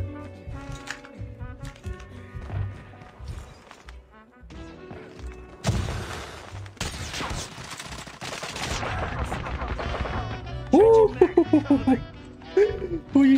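Video game gunfire, bursts of rapid shots and thuds mixed with game music and effects, loudest in the middle and ending in sharp repeated shots, with a voice talking over parts of it.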